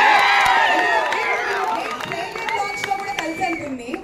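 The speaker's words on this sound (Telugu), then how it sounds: "నిజంగానే చప్పట్లు కొట్టాలి." A crowd at a Tillu 2 song launch event claps and cheers, with a dense burst of applause and excited voices that starts loud and gradually thins out over a few seconds.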